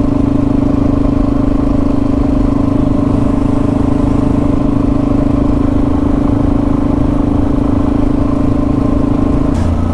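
Motorcycle cruising a country road near Darlington Park on a Canungra to Border Ranges ride, its engine a steady, close, loud drone that holds unbroken throughout with no talking.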